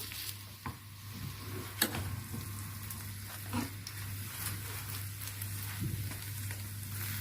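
Potatoes for Syrian potato sandwiches frying in a pan, a steady soft sizzle with occasional scraping stirs and light clicks, fairly quiet and close, alongside a low steady hum and no talk.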